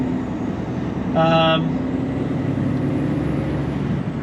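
Straw truck passing close by with a short sharp hiss-squeal of air brakes over the steady heavy engine rumble.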